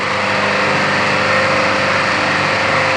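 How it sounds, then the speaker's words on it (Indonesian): A workshop engine, fed through a radiator cooling system, runs at a steady, loud, close drone with no break or change in pace and no one speaking. "Setelah turun semuanya, barulah dihidupkan mesin."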